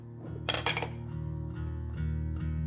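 The back of a wooden spoon packs shredded cabbage down into a jar, giving a short burst of clinking and scraping against glass, then softer muffled pressing over a low background hum.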